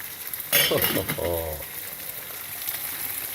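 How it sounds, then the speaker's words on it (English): Oil sizzles steadily in a pan with a crackling, spattering hiss, briefly louder at first as food is stirred, then settling into a constant fry. "It's an oil sizzling sound now, not a water bubbling sound."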